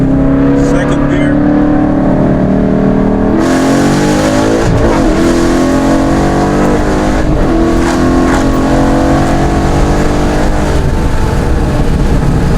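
A car on soft Toyo Proxes R888R tires revs hard and accelerates in second gear, its loud engine note climbing in pitch, dropping at a shift and climbing again, close to the microphone with some talk over it.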